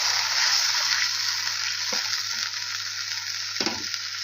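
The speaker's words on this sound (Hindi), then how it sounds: "अब हम इसमें ऐड करेंगे बीफ। ये ऐड करके हम इसे अच्छी तरह से भून लेंगे।" Beef frying with browned onions in a pot for Afghani pulao, a steady loud sizzle with two brief stirring scrapes, no talking.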